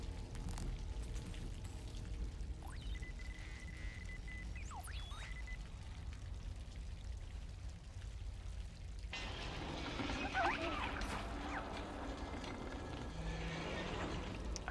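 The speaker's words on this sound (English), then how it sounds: "I do appreciate all these rain sounds." Rain falls steadily in a video game as a soft, constant hiss with occasional small chirps, then turns louder and brighter partway through as the downpour grows heavier.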